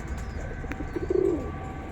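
A single short, throaty coo from an Andhra pigeon held in a loft rises briefly near the middle, close and clear over a quiet, hissy background.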